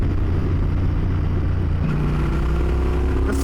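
A Yamaha Tenere 700 adventure motorcycle leaning through a turn, its engine droning steadily with wind rush, easing slightly in pitch partway through before a brief rise at the end.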